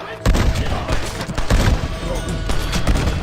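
Heavy gunfire from a Red Dead Redemption trailer, a dense volley of loud shots and booming impacts with a narrating voice running underneath.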